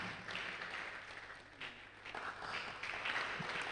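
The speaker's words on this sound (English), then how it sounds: "Let's clap for her." An audience at a green chemistry and sustainability faculty workshop applauds in a hall. The clapping is faint and distant, a steady wash of hand claps lasting several seconds with no voices over it.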